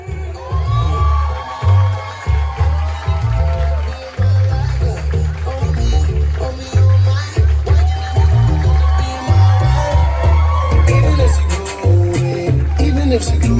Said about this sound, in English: One more big round of applause, Mr. and Mrs. Lucas Canterbury.